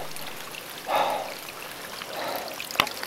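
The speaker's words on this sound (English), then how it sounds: "Notice how I'm basically walking through a river" River water splashing around legs wading through a stream while tramping in New Zealand bush, two soft swishing surges of water over a faint trickling background, close to the microphone, ending with a sharp knock.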